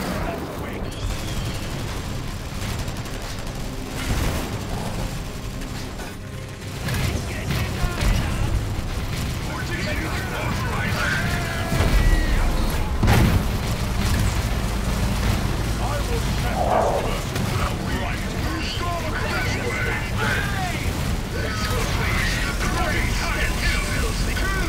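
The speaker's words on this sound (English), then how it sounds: "I'm tossing grenade!" A thrown grenade exploding in a Warhammer 40K battle game between Space Marines and Orks, a loud burst rising out of dense battle noise with clanking mechanisms and gunfire, under game voices.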